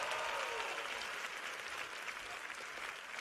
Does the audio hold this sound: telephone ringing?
no